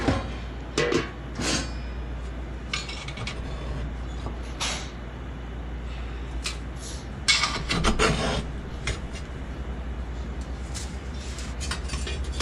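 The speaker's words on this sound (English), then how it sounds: "let's clean out that firebox. We're going to get rid of all the debris that may be on the top of the baffles" Scraping and rasping inside the firebox of a Cubic Mini wood stove as debris is cleared from the baffles, irregular close metallic scrapes and brushing strokes over a low steady hum.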